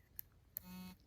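A water-damaged iPhone 6 with a bad screen buzzes briefly, a short steady low hum lasting under half a second between a couple of faint clicks, quiet and close.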